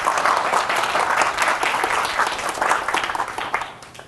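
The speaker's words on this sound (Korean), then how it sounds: "박수로 한번 맞이해보도록 하겠습니다" Students in an auditorium clap steadily to welcome a lecturer to a talk, a dense, even burst of applause from a moderately sized crowd that fades out toward the end.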